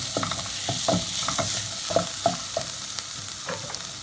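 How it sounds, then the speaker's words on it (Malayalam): Onions sautéing in a pan with crushed ginger-garlic and chopped green chillies, a steady close sizzle broken by repeated scraping stirs of a spoon, no voices. "അങ്ങനെ ഉള്ളി വഴണ്ട് വന്നിട്ടുണ്ട്"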